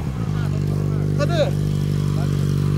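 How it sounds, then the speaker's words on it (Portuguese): A Honda CB1000 motorcycle's engine drones steadily and fairly loudly as it is ridden nearby, with a brief spoken word and some faint voices in the background. "Ele tá com a minha moto correndo."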